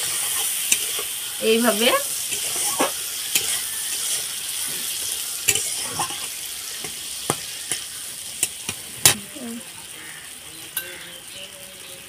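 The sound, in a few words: pointed gourd (potol) sautéing in a pan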